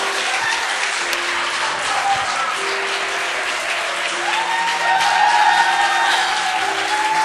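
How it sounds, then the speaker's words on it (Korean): Loud sustained applause from a church congregation during a Sunday service, continuous clapping that swells slightly toward the end. "박수, 박수"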